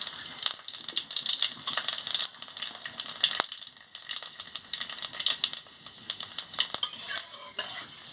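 Cumin and panch phoron crackle and sizzle in hot oil in a kadai, a steady close frying hiss broken by frequent sharp clinks and scrapes of a spoon against the pan, with no talking.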